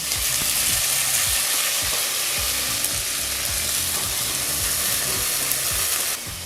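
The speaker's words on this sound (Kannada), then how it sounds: "ನಂತರ ಮೆಂತ್ಯ ಸೊಪ್ಪನ್ನು ಸೇರಿಸಿ 1 ನಿಮಿಷಗಳ ಕಾಲ ನೀಟಾಗಿ" Fenugreek leaves frying in hot oil with spices for vegetable rice, a steady loud sizzle with stirring scrapes throughout, close and without talk.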